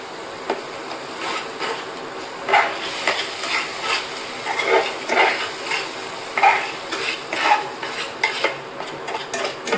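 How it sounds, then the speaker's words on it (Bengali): Spoon stirring masala with Kashmiri red chilli powder in a pan, onion, ginger and garlic frying with a soft sizzle, scattered scraping clinks of the spoon against the pan, close and moderate, no voices. "মশলাটা একটু নাড়াচাড়া করে ভেজে নেব, যেন কাঁচা পেঁয়াজ, আদা ও রসুনের গন্ধটা চলে যায়"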